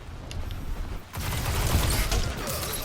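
Video game gunfire from a Destiny 2 online match played on console, a sustained dense barrage of shots that drops briefly before building again, loud and close throughout.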